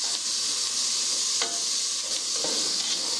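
Onion and carrot sizzle steadily as they fry in a pan, a continuous bright hiss with a few soft stirring scrapes, close and alone without voices.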